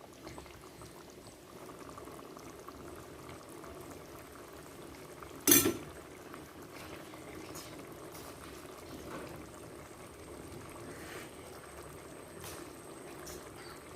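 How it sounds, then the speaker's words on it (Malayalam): A pot of fish curry masala paste bubbles and simmers steadily at low volume, with one brief sharp clink partway through. "അപ്പോൾ നമ്മുടെ അരപ്പ് തിളച്ചിട്ടുണ്ട്"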